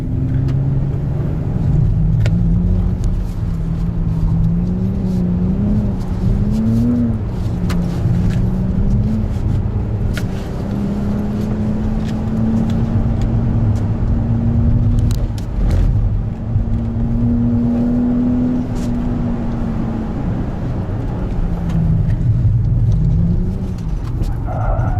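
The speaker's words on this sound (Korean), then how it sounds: "드리프트 모드로 이쪽 코스를 한번 돌아보겠습니다." Hyundai Ioniq 6 N electric car drifting around a track course, a continuous loud whirring drone with wavering pitch and tire noise that rises and falls steadily, heard close with no talking.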